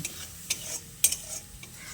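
Tomato, ginger and green chili masala paste stir-fried in a pan, a soft sizzle broken by sharp scraping clinks of a spatula, roughly every half second.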